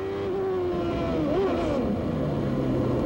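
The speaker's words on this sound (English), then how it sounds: "Now listen to the engine note." CART race car engine from 1994 at the Laguna Seca hairpin, a tonal engine note that drops and then climbs again as the car brakes and accelerates through the turn, steady and moderately loud with no talk.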